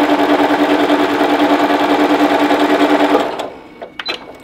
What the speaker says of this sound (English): and now I'm just sewing that 1/4 inch.